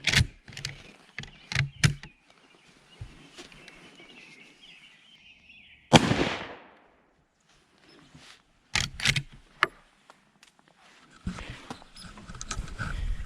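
A Winchester Model 94 30-30 lever action rifle fires one loud, close shot outdoors at a 6-inch steel plate 25 away. The sharp blast decays quickly and is framed by softer handling clicks and rustles.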